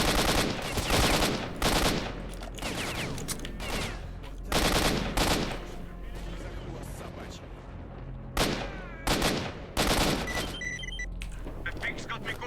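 Gunfire in STALKER: Shadow of Chernobyl comes as loud, close bursts of rapid shots separated by pauses, with voices and ambient game noise between the volleys.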